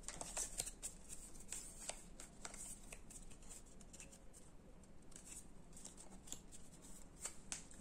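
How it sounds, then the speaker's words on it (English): Quiet, close riffling and snapping of a deck of cards being shuffled for a solo board wargame, in repeated short bursts. "there's a lot of shuffling"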